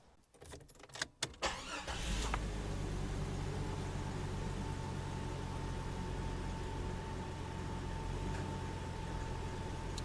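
A Jeep engine, freshly fitted with a new throttle position sensor, cranks briefly and catches, then settles into a loud, steady idle that holds evenly for the rest of the time, with no talking.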